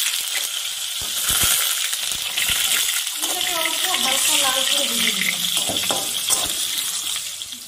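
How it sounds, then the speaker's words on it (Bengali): Potato pieces fry in hot oil seasoned with whole cumin and bay leaves, giving a steady, close hiss of sizzling that runs through the whole stretch, with faint tonal sounds drifting above it. "আলুটা অল্প হালকা করে ভেজে নিয়েছি।"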